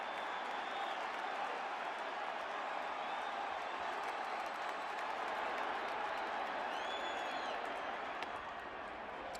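Baseball stadium crowd at a 2008 Red Sox game applauding and cheering, a steady distant wash of clapping and voices that holds evenly throughout.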